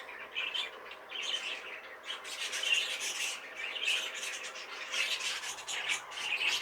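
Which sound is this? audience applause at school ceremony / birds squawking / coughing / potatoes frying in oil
birds squawking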